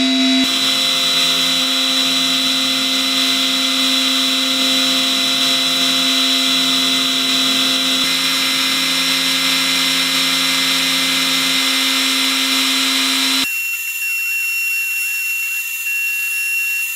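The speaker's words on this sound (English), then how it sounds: "Then I'm going to turn my spindle on." The spindle of an X-Carve CNC machine whines steadily while carving a part, a loud continuous tonal hum that drops away abruptly near the end, leaving a thinner high whine.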